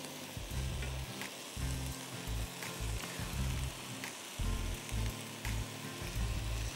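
Cold cooked rice stir-fried with tofu and vegetables in a hot pan, a continuous loud sizzle with rhythmic scraping bursts as the rice is tossed and mixed, close and without talk.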